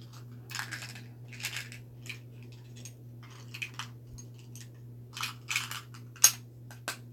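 Small metallic mint tin rattles and clicks, mixed with soft crunching from chewing mints, close and quiet over a steady low hum.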